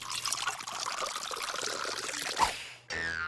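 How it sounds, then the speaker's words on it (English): Water pours steadily into a large jar, a close, continuous gurgling stream that ends with a brief trickle before the flow stops. "Take a large jar and you fill it almost to the top with water."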